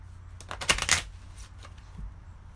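A short burst of cards riffling together, a quick flurry of crisp flutters up close in a quiet room.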